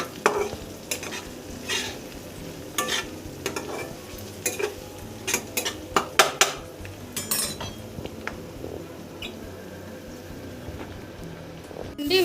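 A spoon mixing turmeric into meal maker pulao in a pan, with irregular scrapes and metallic clinks against the pan over a light sizzle, close and clear, with no voices.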